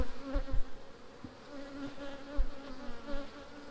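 Honeybees buzz as they lift off an opened brood-and-nectar frame during a production hive inspection in Jamaica, a steady close insect drone with scattered louder wingbeat swells and no talking.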